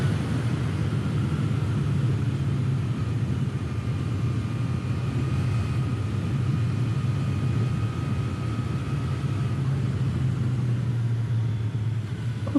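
A three-cylinder motorcycle engine runs steadily as a continuous low rumble with a faint higher whine, unbroken and fairly loud throughout.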